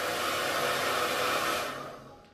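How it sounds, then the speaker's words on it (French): A handheld hair dryer blows close and loud in a steady, airy roar while hair is blow-dried, then fades out over the last second. "Et là, je vais faire mon brushing."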